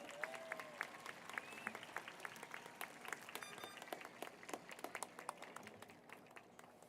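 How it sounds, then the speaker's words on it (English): Audience applause at a high school graduation ceremony, steady clapping from a crowd, quite faint and distant. A few sharp claps stand out, and a brief whistle-like tone rises early on. "Round of applause one more time for our valedictorians."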